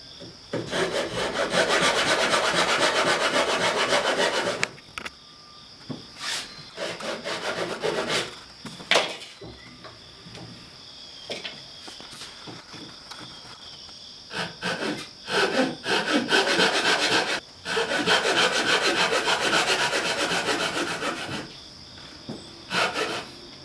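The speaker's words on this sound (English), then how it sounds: "Japanese saw with broken teeth and halfway rusted here." A rusty Japanese hand saw with broken teeth rasps back and forth through wood in long bursts of steady strokes, close and loud, broken by short pauses between sessions.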